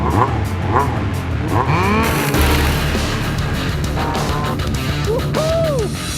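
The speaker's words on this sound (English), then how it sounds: "A brand new Nitro, Yamaha's fastest snowmobile today, against the company's fastest sled from the 1970s." A new Yamaha Nitro snowmobile races a 1970s Yamaha sled down a quarter-mile track. Loud engines rev and whine in rising and falling pitch sweeps, mixed with voices.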